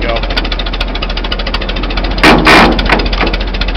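A 1926 Fordson tractor engine runs close by with a steady, rapid knocking chug, briefly broken by a louder burst of hiss or clatter partway through.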